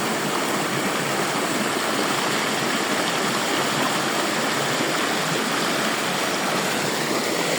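A stream runs down from the village waterfall at Vila Cachoeira in Maragogi, Alagoas, giving a close, steady rushing and splashing of water that stays loud and even throughout with no other sounds.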